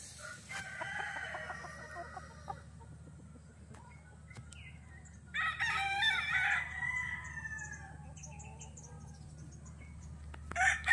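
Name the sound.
gamecocks crowing at a game farm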